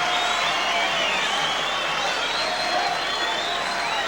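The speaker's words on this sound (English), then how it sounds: "the crowd will be just about split here, but they're pretty fired up for the challenger's arrival" A fired-up boxing arena crowd roars for Larry Holmes's ring entrance before his rematch with Michael Spinks: a continuous, even wash of cheering with whistles and whoops rising above it, with no break from start to end.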